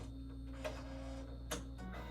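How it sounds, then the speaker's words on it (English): An EnjoyColor A3+R DTF printer runs a print head cleaning cycle, giving a low steady mechanical hum with faint whirring and two brief sharp clicks or swishes, quiet and close. "So I'm doing a head cleaning again, and then I'll do another nozzle check."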